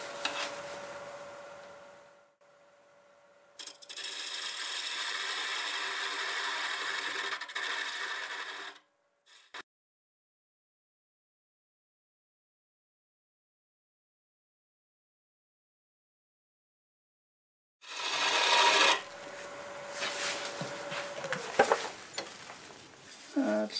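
Wood turning on a lathe with a spindle gouge, a steady broadband scraping hiss as the tool cuts, stopping, then a long stretch of silence before the cutting noise resumes near the end.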